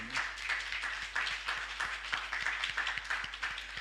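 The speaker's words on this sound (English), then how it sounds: "Could we give all our presenters a round of applause again?" A crowd claps steadily in a quiet room at a symposium, a brief round of applause for presenters with dense, even hand claps.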